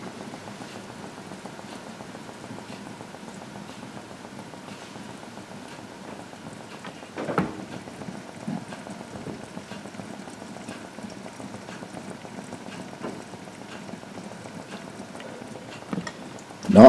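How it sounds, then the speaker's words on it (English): Canadian wild blueberries for a blueberry grunt simmer in a frying pan, giving a faint, steady low bubbling and popping with a slightly louder burst partway through and another near the end. "so you can hear the Canadian wild blueberries grunting"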